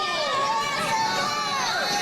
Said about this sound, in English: The fans cheering on Austin